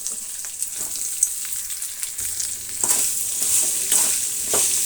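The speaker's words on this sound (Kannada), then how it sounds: "ಈರುಳ್ಳಿ ಚೆನ್ನಾಗಿ ಬಾಡಿಸ್ಬೇಕಾಗತ್ತೆ" Thickly sliced onions for a potato palya sizzle in a pan, a hissing fry that swells in the second half with a few soft stirring scrapes, close and alone.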